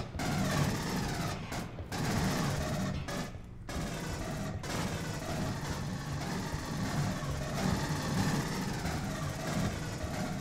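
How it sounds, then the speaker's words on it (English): Sustained, loud gunfire from the video game Aliens: Colonial Marines, with dense automatic bursts running almost without a break and a few brief pauses. "What are you shooting at?"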